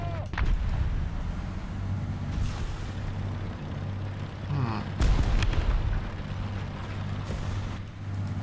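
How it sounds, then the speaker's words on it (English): Artillery strike explosions in War Thunder, a combat vehicle game: several booming, rumbling blasts land over a continuous low engine drone, with heavier impacts near the middle and a sharp burst later on. "Probably a okay spot to call the artillery strike."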